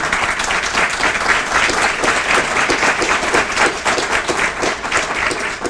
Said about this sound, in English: I'd like for you to give a round of applause for not only Chief Lowry,